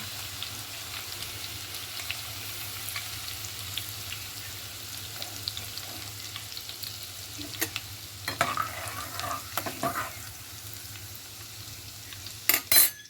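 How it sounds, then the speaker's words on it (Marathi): Plenty of garlic frying in a pan already tempered with mustard seeds, giving a steady close sizzle under repeated scraping stirs of a utensil, with louder clatters near the end. "आता आपण लसूण टाकून घेऊया. भरपूर लसूण टाकायचं आहे."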